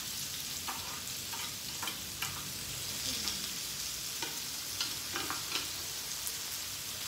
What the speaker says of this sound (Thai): ทุกคนมากินหมูกระทะกันนะคะ